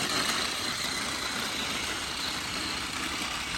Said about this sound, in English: just by listening to his motor, he sounds like he's struggling a little bit